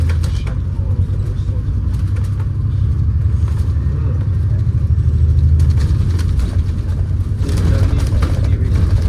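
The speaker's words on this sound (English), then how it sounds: "Just waiting for that highway maintenance truck to go along" A highway maintenance truck rolls past on a road, a steady loud low rumble of engine and tyres that swells slightly toward the end, with no speech.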